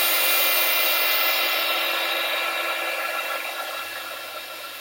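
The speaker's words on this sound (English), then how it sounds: "Now I'm just going to heat and emboss that to give it that lovely, nice raised silver edge." A heat gun blows a steady, even whoosh while embossing powder on a card, loud at first and easing slightly toward the end, with no voices.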